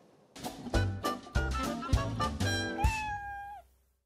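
A cat's meow, gliding and drawn out, ends a short rhythmic musical sting with a steady beat; both are loud and close, with no talking.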